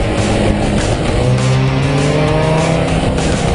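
A drift car loads up through a track corner under light braking, its engine droning loudly and steadily with rising tones and tire squeal on the approach.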